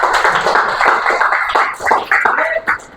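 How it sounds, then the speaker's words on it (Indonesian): Classroom applause for a student group: a dense, steady patter of many hands clapping together for about three seconds, fairly close and loud with no talking over it. "tepuk tangan untuk kelompok 5"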